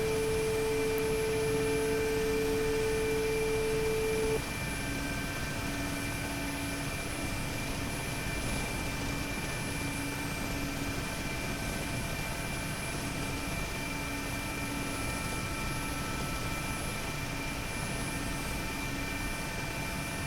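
Mi-8MTV2 transport helicopter in flight in the DCS combat flight simulator, a steady, loud engine and rotor drone with a constant whine, continuous and unbroken for the whole stretch with no talk.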